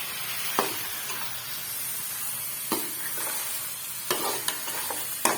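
Potatoes and mongray frying in masala, a continuous close sizzle broken by several sharp stirring scrapes of a spoon against the pan, with no talking.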